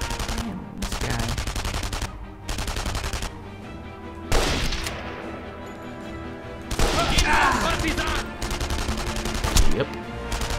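Rifle fire in the World War II shooter Enemy Front, bursts of loud automatic gunfire separated by brief lulls, with clattering impacts and a final heavy crack.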